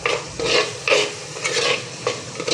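A ground roasted-coconut masala paste is sautéed and stirred in a pan for green chicken, a rhythmic scraping of the spoon against the pan over a soft sizzle, close and fairly loud.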